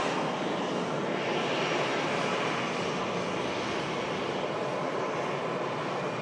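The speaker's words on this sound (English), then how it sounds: "EasyJet just arrived in from Amsterdam" An EasyJet passenger jet arriving at Manchester Airport from Amsterdam gives a steady, broad engine roar that holds at an even level throughout, with no voices over it.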